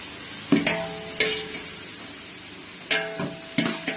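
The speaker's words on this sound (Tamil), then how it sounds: "நல்லா வந்து மசிகிற வரைக்கும் நம்ம வதக்கி எடுத்துக்கணும்" Onion and tomato sautéing in a pan for chicken dum biryani, with four separate bursts of spoon scraping and stirring against a low sizzle, nearby and fairly quiet, with no voices.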